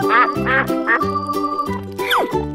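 Cartoon duck quacks, a run of loud, nasal, buzzy calls in quick succession with tonal, musical sounds between them, no talking.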